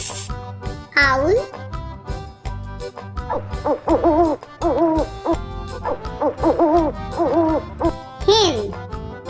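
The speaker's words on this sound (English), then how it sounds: "Owl." An owl hoots in a children's animal sounds collection, the call set over cheerful background music with a voice heard nearby.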